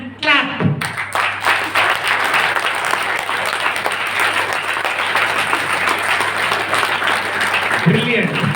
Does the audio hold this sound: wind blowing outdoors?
no